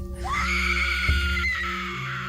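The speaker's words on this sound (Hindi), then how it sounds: "एक तेज चीख सुनाई देती है" A sharp, high-pitched scream rises and holds for about two seconds over a low steady hum, with a dull thud partway through.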